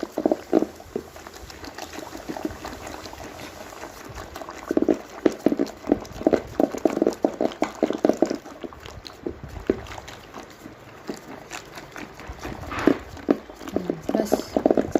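Buttermilk churned by hand to make butter for ghee: wet, rhythmic sloshing and slapping of liquid in a vessel, close and steady with uneven strokes, while someone speaks at times.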